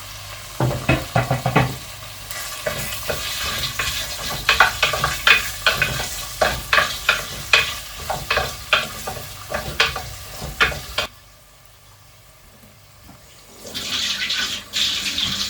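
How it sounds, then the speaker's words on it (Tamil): Chopped onions sauté in a hot pan for chicken biryani, with a steady sizzle under a run of rhythmic spatula scrapes and stirs, close and fairly loud, before the frying drops to a quieter hiss near the end. "கட் பண்ணி வச்சிருக்க வெங்காயத்தை போட்டு வதக்கிக்க வேண்டியதான்."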